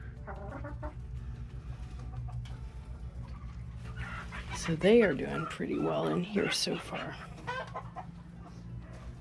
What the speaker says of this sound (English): There's a chicken being accosted out there.